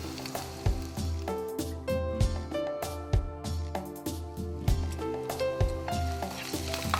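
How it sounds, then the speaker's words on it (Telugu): Garlic and ginger pieces sizzle and crackle in hot oil in a pan, with rhythmic stirring scrapes and clinks of a utensil against the metal repeating throughout, close and fairly loud. "ఇప్పుడు కొంచెం వెల్లుల్లిపాయలు కూడా వేసుకుంటాం."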